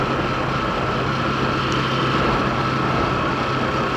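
Motorcycle engine running steadily while engine braking in a lower gear on a gravel road, a constant droning hum with no clear revving changes, alongside broad wind and road noise.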